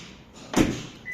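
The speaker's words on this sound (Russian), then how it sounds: "Учу, как двери закрывать." A single solid thud of a 2014 Toyota Prius car door closing near the microphone, a short heavy close with a brief rattle after, against quiet background.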